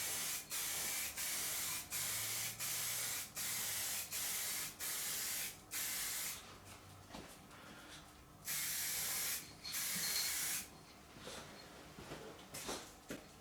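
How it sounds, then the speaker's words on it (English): Aerosol spray paint hisses out in a run of short, even bursts with brief gaps, followed by a few longer, steadier sprays, all close and fairly loud with no one talking. "not to spray too far away, but you've got to also be careful not to be too close to get the runs"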